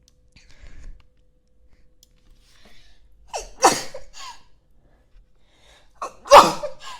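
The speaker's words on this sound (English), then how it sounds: "That was a very loud sneeze." Two loud, sharp sneezes close to the mic, a few seconds apart, with faint breathing beforehand and quiet in between.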